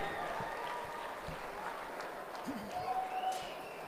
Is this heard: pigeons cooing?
no